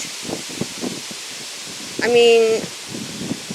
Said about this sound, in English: Whoa, it's really windy.